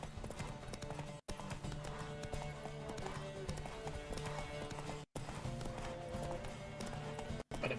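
A galloping horse's hooves pound in The Witcher 3, a fast, continuous clip-clop under steady game music, with brief dropouts where the sound cuts out.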